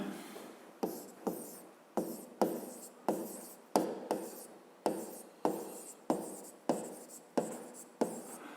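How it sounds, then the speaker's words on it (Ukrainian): Pen or pencil writing out a maths solution by hand on paper, a steady run of about a dozen sharp scratchy strokes, each starting with a crisp attack and tailing off, close and clear with no talk. "а зараз записуємо розв'язання"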